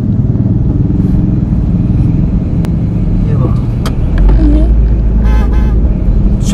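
Street traffic with a car passing by and short horn toots near the end, an engine rumble building over steady road noise, while people talk nearby.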